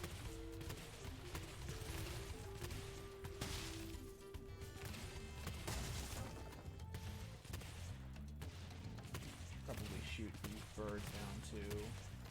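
Repeated booming cannon shots and crashing impacts from a battle in the video game Spyro 3: Year of the Dragon, mixed with busy sound effects and a voice talking now and then.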